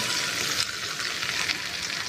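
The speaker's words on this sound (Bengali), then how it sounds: "তাহলে তেলের ওপর পেঁয়াজ টমেটো আলু ঢ্যাঁড়স দিয়ে দেবো" Onion, tomato, potato and okra sizzle steadily in hot oil, a continuous broadband frying hiss with faint stirring scrapes, close and fairly loud throughout.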